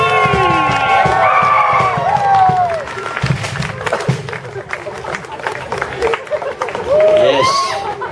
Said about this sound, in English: Keep clapping. Everybody give him a loud scream.